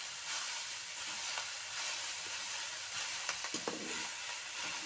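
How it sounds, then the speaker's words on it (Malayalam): Coconut, onion and green chili stir-fried in a pan for a colocasia-leaf thoran and stirred, a quiet, steady low sizzle with a few soft scrapes of the spoon toward the end. "ഇനി ഒന്ന് ഇളക്കി കൊടുക്കാം."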